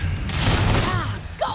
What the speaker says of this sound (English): Turrets are helping us now, which is nice.